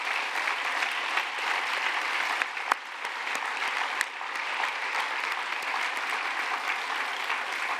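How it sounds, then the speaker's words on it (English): An audience at a science conference closing ceremony applauds continuously, a dense steady clatter of many hands lasting throughout, heard from within the hall. "And could you give them a round of applause,"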